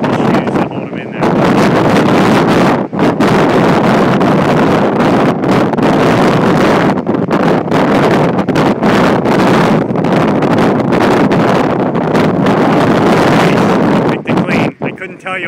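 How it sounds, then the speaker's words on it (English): Strong wind storm buffeting the microphone with a continuous heavy roar and gusting rushes throughout, brief dips between gusts, and people talking underneath. "the wind's slowing down now, but it was pelting us"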